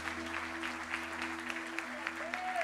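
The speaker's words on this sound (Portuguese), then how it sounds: "Você pode aplaudir o teu Deus, queridos?" Church congregation claps in praise to God during a worship service, a steady murmur of applause beneath a sustained organ-like tone and a voice speaking over it.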